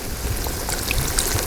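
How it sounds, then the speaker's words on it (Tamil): Water poured into a pot of simmering country chicken curry over a wood fire, a steady trickling pour with a soft bubbling bed beneath, close and continuous. "தண்ணி சேர்த்துங்க."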